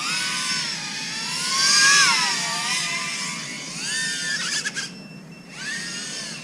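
FPV wingsuit drone's electric motors whine through a flight on a very tired battery, pitch sweeping up and down with throttle, loud and close, briefly cutting out near the end before spinning back up.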